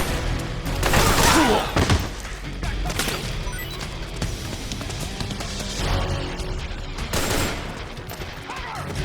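Gunfire in the video game Metal Gear Solid 4, with dense volleys of automatic shots and heavy impacts layered with crashes. The firing swells and fades in bursts around a chaotic battle.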